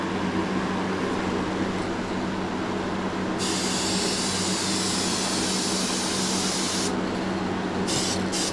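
Red paint sprayed onto Ford F150 side caps over white primer: a steady broadband hiss of compressed-air spray, with a brighter burst through the middle and short bursts near the end, close and continuous, no talking.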